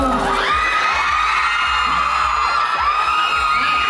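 A crowd screams and cheers at a fan festival event, with high whoops and shrieks rising over a steady roar of voices.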